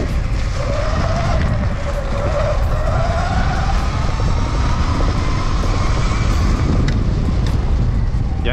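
A Sur-Ron Light Bee L1E electric motorbike picks up speed, its motor whine climbing under loud, steady wind and road roar with no pause throughout.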